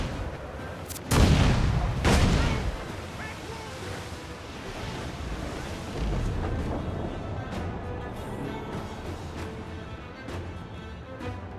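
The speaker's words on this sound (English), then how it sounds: "Look, they fire mortars" In a naval video game battle, mortar and cannon fire lands as two heavy booms close together early on, followed by a rolling rumble under steady wind and sea noise.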